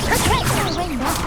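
A Confringo spell cast in Hogwarts Legacy, a sharp whooshing burst with a crackling impact, played loud against continuous game music and effects for just over a second.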